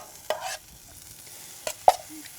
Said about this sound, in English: I like to take my salsa and just drop it in here